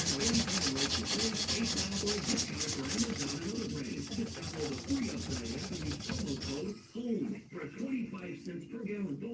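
Hand sanding a knife blade lubricated with WD-40, a fast, steady rhythmic rubbing of abrasive strokes close by that slows into scattered, uneven scrapes toward the end.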